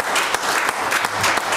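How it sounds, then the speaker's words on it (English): Church congregation at a Sunday service clapping their hands in praise, a quick burst of loud, dense applause that swells and pulses briefly. "Give the Lord a hand clap this morning."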